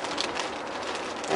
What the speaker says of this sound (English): It's been raining here in New Jersey.